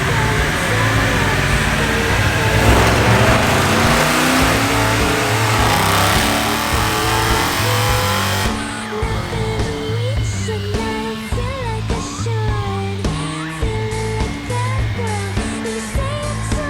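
A 2017 Dodge Challenger T/A with a 5.7 Hemi, long-tube headers and a big throttle body, revving on a dyno. It is loud and continuous, holding a steady roar first, then shifting into rising and falling engine tones with no talk.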